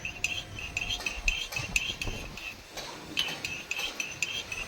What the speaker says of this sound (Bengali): এক হাত দিয়ে আমি এভাবে অনবরত নাড়তে থাকবো না হলে আবার তলায় দলা পেকে যেতে পারে